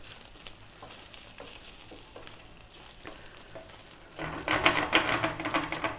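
Egg omelet in a pan, starting as a quiet low sizzle with light scraping taps, then bursting into loud, crackling frying for the last couple of seconds.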